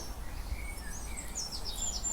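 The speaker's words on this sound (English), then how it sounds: "the sun's shining, the birds are singing" Birds sing in a sunny garden on a calm day, with faint, scattered high chirps and tweets at a distance over a soft, steady outdoor background.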